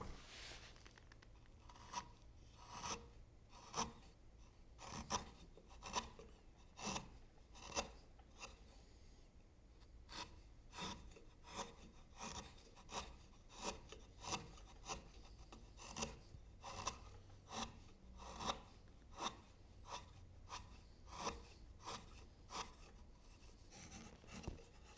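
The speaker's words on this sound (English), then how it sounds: "I'm using the chisel to remove most of the waste." A sharp chisel pares waste from a wooden garden finial, making repeated short scraping and shaving strokes in a steady rhythm, close and fairly quiet, with no talking.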